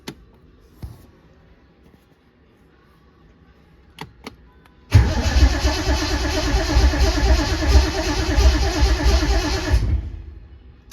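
Triumph TR6 engine cranking over with the ignition coil switched off, a loud, steady starter churn that cuts in sharply after a few faint clicks and runs about five seconds before stopping.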